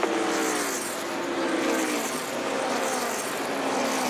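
A loud NASCAR race car engine at Phoenix in 2007 roars steadily throughout, its pitch rising and shifting as it holds speed, with no talk over it.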